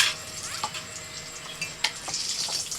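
Hot oil sizzles and crackles steadily as lentil kachori fry over high heat, with a few soft clinks and stirring sounds close by.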